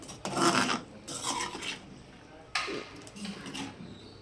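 Scraping and rubbing of a utensil stirring egg gravy with coconut in a pot, in a few uneven strokes with quiet gaps between them.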